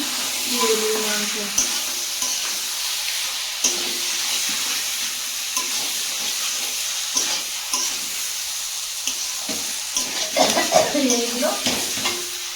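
Meat frying in a pan of spices, with a steady close sizzle and repeated scraping stirs throughout, plus a few knocks, while someone talks intermittently over it.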